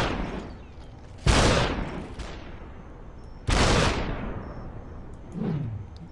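Gunshots in the video game SUPERHOT: two loud, sharp blasts a couple of seconds apart, each with a long decaying tail, then a softer third burst near the end; no talking.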